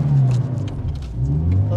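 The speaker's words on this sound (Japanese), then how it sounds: "クラッチパン。" A drift car's engine revs hard during a clutch kick, a loud close rumbling surge that rises, dips and climbs again, with an instructor's voice talking over it.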